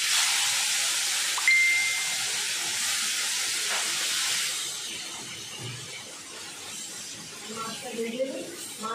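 Fish frying in hot oil in a pan gives a loud, broad sizzling hiss that gradually fades and settles, with a voice speaking over it toward the end.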